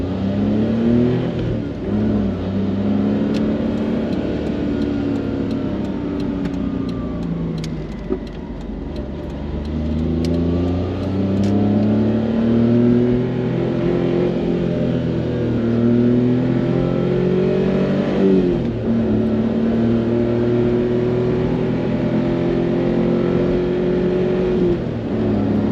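A Honda Beat kei car's small engine revs hard while driving. Its steady droning note climbs through the gears in repeated rising sweeps, loud and close, with no talking.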